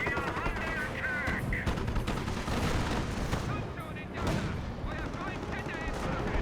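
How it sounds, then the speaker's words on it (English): Heavy gunfire fills a Company of Heroes battle, with dense rattling shots and explosions over a continuous din, and game voices speaking briefly in between. "Good shots down the Greyhound."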